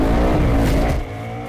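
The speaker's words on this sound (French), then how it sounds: "Les deux, on est partis avec les pneus complètement allumés" A Ford Mustang Bullitt and a Dodge Challenger Hellcat Widebody launch side by side with tires fully spinning, a loud, close burst of engine roar and wheelspin that drops off sharply after about a second.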